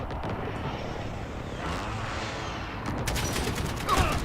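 A precision airstrike in a video game unleashes a rumbling barrage of explosions that sounds like heavy gunfire, loud and continuous, swelling near the end with sharper crackling blasts.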